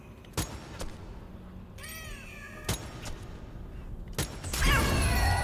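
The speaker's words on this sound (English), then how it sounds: "I hear the cat, but I can't see it." A cat meows twice with drawn-out, wavering cries in the Strange Brigade video game, set amid sharp creaks, clunks and rustling game effects, moderately close, with no talking.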